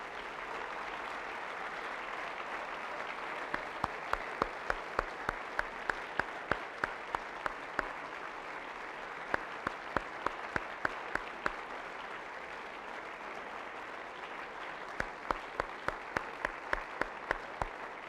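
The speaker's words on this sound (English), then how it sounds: "Men of the class of 2019, please rise and join me in thanking your parents with a rousing chorus of applause." A graduating class of 2019 men at a ringing-in ceremony claps for their parents, a steady wash of crowd applause with scattered sharp individual claps running throughout, no talk.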